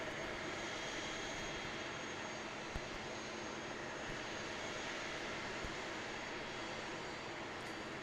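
ATR 72-600 turboprop at Christchurch Airport, a faint, steady engine hum with a thin continuous tone, distant and even, with a couple of tiny clicks and no talk.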